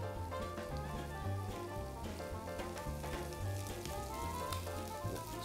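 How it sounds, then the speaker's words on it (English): Diced ham sizzles in a pan with caramelised onions, giving a steady, close crackle and hiss with dense popping that continues without pause. "So the next step, we're going to add the ham. Brown that off a little bit and we're ready to go."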